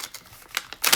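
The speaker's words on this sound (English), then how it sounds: "I'm going to go ahead and just tear this" A paper page from a journaling kit being torn by hand: a short run of crisp, ripping bursts that grows louder toward the end, close and alone.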